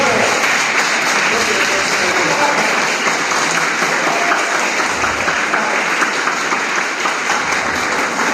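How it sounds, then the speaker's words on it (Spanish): Steady, loud applause from a university audience welcoming someone speaker at a book presentation, a dense wash of clapping holding evenly throughout. "un fuerte aplauso para Piedad"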